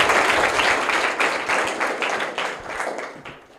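Schoolchildren in a private school classroom clap hard for a classmate's correct answer, a close, vigorous burst of applause that gradually thins out.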